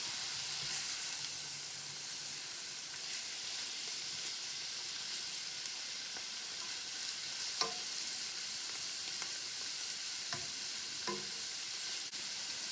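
Hen of the woods mushrooms frying in a pan give off a steady, hissing sizzle throughout, with a few faint clicks and scrapes of utensils, close and even in loudness.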